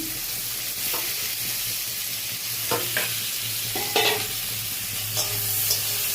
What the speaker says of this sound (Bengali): ভাজাভাজি হোক